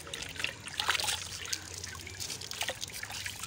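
Running water trickles steadily while rabbit food is washed, a soft, fairly faint splashing with small drips and irregular bursts throughout, no voices heard.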